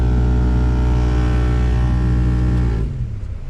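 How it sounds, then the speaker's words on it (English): A faulty heater blower motor in a Honda CR-V RD1 gives a loud, steady hum with strong tonal drone that runs evenly, then cuts off abruptly near the end, leaving quieter low rumbling. "Something's going on with the heater blower motor, or whatever that noise is"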